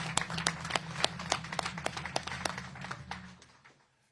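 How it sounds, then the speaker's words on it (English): Applause at a briefing by Governor Josh Shapiro celebrating higher education investments in the Commonwealth: a mid-sized crowd claps with distinct, sharp hand claps, then the sound tapers off and fades to quiet. "I think that deserves a round of applause"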